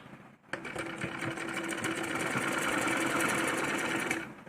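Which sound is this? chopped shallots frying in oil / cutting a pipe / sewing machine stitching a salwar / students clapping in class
sewing machine stitching a salwar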